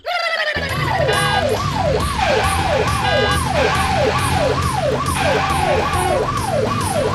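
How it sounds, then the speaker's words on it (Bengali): A loud, close ambulance siren wails continuously in rapid repeating rising-and-falling sweeps, with engine noise underneath. "অ্যাম্বুলেন্সের মতো আওয়াজ, খুব বাজে সাইরেন"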